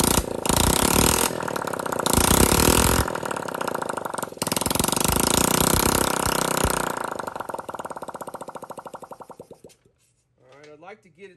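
A Honda Z50 motorcycle engine runs loud and close on choke, revving unevenly with a couple of brief dips before sputtering out and stopping near the end.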